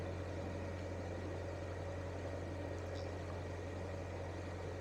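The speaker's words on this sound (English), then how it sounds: "Bloody noisy boat." A narrowboat's engine runs while cruising, a steady low droning hum with constant vibration, moderately quiet and unbroken throughout.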